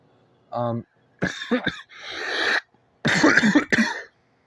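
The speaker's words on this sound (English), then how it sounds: "I'm talking so much and it's making me cough." Several sharp, harsh human coughs come in two close bursts, near and fairly loud, with a brief throat sound at the start and quiet gaps between.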